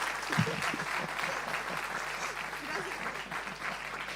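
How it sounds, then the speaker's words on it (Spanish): Applause from a church audience, a steady continuous wash of clapping at moderate, even loudness, with faint crowd murmur underneath. "un aplauso, chicos, muchas gracias"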